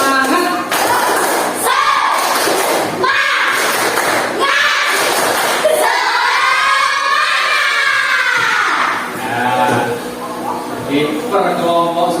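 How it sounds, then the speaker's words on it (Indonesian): A classroom of students performs a rhythmic spirit clap, patterned bursts of claps and thumps in sequence, with group voices chanting along between the loud, close beats. "Tepuk semangat."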